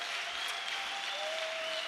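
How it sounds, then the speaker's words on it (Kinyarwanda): A church congregation claps together, a faint, even wash of applause heard from a distance with a soft tonal hum running underneath. "Dukomere Yesu amashyi wadutsindiye urupfu."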